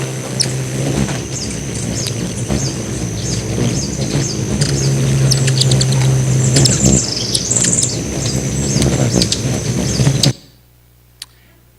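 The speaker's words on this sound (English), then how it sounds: "he took this lovely little piece of footage of hummingbirds, which we're going to show you now, Daisy, if you hit the button" Hummingbirds recorded on video footage played back to an audience, with repeated short chirps and tweets over a steady background hum, ending abruptly in near silence.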